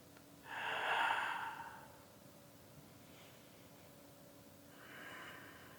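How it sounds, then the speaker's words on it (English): Deep breaths during seated adaptive chair yoga: a loud, long breath near the mic, then quiet, then a softer second breath, with no talk. "We're just breathing here."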